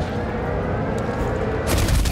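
Battlefield 1943 combat, a dense, loud wash of rumbling gunfire and blasts, with a heavier explosive burst near the end.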